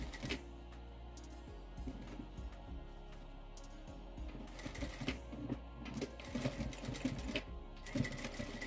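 A sewing machine runs steadily, stitching several passes over the folded-back end of a zipper. Its close, continuous mechanical whir carries light ticking and no talk.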